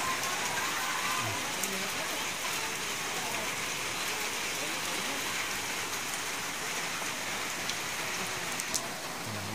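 Heavy rain from Typhoon Paulo falls over a flooded neighborhood. It makes a steady, dense hiss and patter that never lets up through the whole stretch, with no clear talking.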